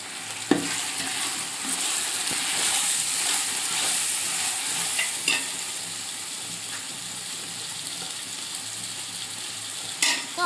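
A spoon churns chicken biryani mixture in a hot pan after salt is added, giving a continuous frying sizzle with scraping strokes and a few sharp clanks against the pan, loud and close for about ten seconds, with no talk.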